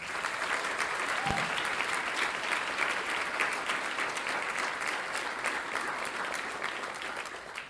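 Steady, sustained applause from a large audience at an awards breakfast, dense clapping filling the whole stretch at an even level with no voices breaking through.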